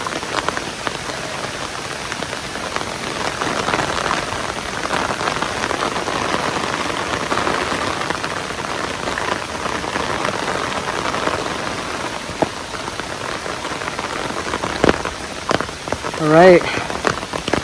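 Rain pattering steadily on a Dragoon Ridgeback bivy-style tent, a close, even drumming on the fabric that runs throughout, with a brief spoken phrase near the end.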